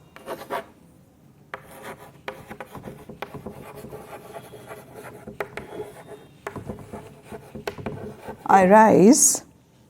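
A pen scratches across paper during an English class, in short, irregular strokes up close, and a brief loud squeal cuts in near the end.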